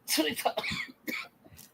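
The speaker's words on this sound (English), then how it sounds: "I go to talk and I wind up coughing." A short bout of coughing and throat clearing, a few rough bursts close to the listener, with no words spoken.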